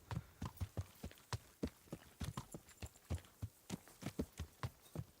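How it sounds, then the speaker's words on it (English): Horse hooves clip-clopping in a steady walking rhythm in the medieval game Kingdom Come Deliverance, close and clear with no talk over them. "We can hear our horse now."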